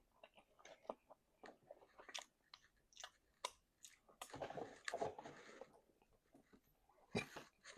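Crunchy chicken wings in a sweet and spicy sauce being chewed up close, with scattered crisp bites and wet smacking in uneven bursts and brief pauses between them. No one speaks.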